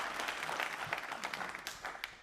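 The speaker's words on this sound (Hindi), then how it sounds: "तालियां जोर से बजाइए आप एक बार अपने लिए" An audience in a studio quiz show claps for itself, a short burst of fairly faint, busy applause from many hands with no clear voice over it.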